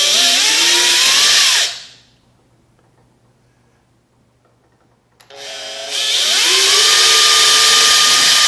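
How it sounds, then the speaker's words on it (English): A loud power drill whirs, drilling into marked spots, winding up and running for a couple of seconds, falls silent, then spins up again and keeps running. "we're going to drill in where our marks are."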